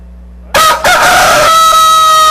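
A rooster crows once, loud and close, a long drawn-out call that starts abruptly after a brief quiet hum and rings on for nearly two seconds.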